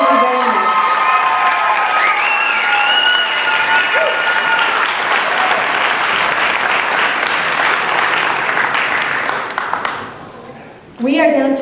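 At a talent show, the audience gives loud, sustained applause mixed with cheering and whoops. A voice rings over the crowd early on, and the noise fades away before a voice briefly returns at the very end.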